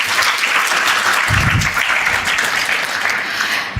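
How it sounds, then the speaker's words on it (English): A loud, continuous round of applause fills a hall at an HR leadership summit for a panelist, dense clapping running the full length with a brief low rumble partway through. "Can we have a huge round of applause for Gaurav, sir?"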